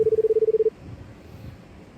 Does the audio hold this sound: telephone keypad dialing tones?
yes